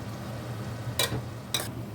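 Steady low sizzle of onions frying in a pot, with two brief bursts of louder stirring or scraping partway through.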